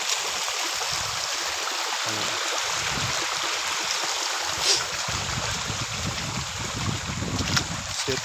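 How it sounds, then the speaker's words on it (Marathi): Water flows steadily through a farm field, a broad continuous rushing wash with some wind buffeting the microphone, holding an even level throughout with no talking. "तुम्हाला आवाज येत असेल पाण्याचं"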